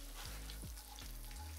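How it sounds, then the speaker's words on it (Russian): Pieces of meat frying in a hot pan give off a steady, close sizzle that fills the whole moment, with a few soft low knocks underneath. "Как видите, жарится оно действительно очень-очень быстро."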